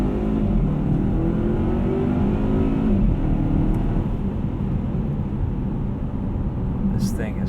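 A 2018 Volvo V60 T6 AWD R-Design accelerates hard, its engine note climbing through rising harmonics and then settling into a steady rumble as it shifts, heard from inside the cabin.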